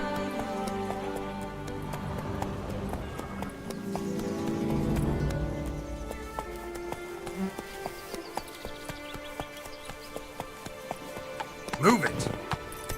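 Roach the horse gallops in The Witcher 3, with rhythmic clip-clop hoofbeats running under game music and ambience, and a short whinny-like burst near the end.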